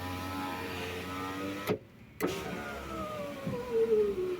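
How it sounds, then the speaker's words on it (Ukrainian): A Ford car's electric window motor whines steadily as the glass travels, with a brief clunk and pause at the stop before the motor starts again in the other direction, close and clear. "Фордік працює, стекло піднімається, так, і опускається"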